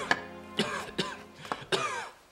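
A man coughs repeatedly, with five harsh, close coughs spaced about half a second apart in a quiet room and no talking between them.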